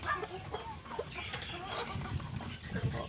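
Laying hens cluck softly and intermittently in the background, with low scattered farmyard noise around them.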